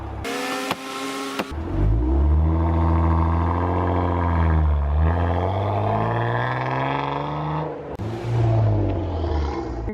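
A 2012 Jeep Wrangler Unlimited with a manual gearbox pulls away on a hill after a short clunk at the start. The engine climbs steadily through the revs, eases for a shift, then pulls again before a brief knock near the end.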